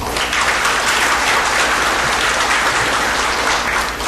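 A conference audience at an international inauguration ceremony gives a big round of applause for a group of entrepreneurs over sixty, steady and dense clapping filling the hall throughout with no one speaking.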